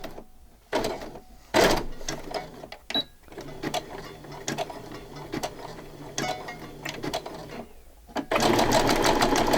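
A sewing machine stitches fabric for a December Daily craft project, running in several bursts of rapid mechanical whirring and clatter with short pauses between runs, fairly close and loud, with a longer steady run at the end.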